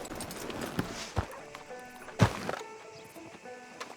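Horse hooves clopping in the video game Red Dead Redemption 2 on a street outside a sheriff's office, a few distinct hoof thuds standing out over a low steady game ambience, with no talk.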